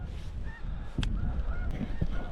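A flock of honking geese calls outdoors during a spring snow goose hunt in North Dakota, with scattered overlapping honks at moderate distance over a rumbling wind-like background.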